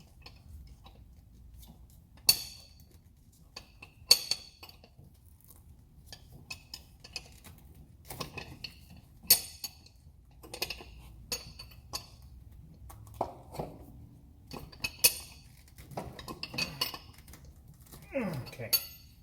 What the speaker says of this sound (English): So I'm just holding the wrench and spinning the airbag.